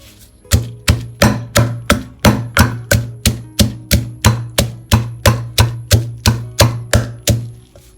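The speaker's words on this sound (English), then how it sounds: "I add the long yard bean because I don't want the chili to fly out from a mortar." Steady pounding of long yard beans and chili in a mortar for a Thai bean salad, about sixteen evenly spaced, close thuds, each with a sharp woody knock and a short ring, with no talking.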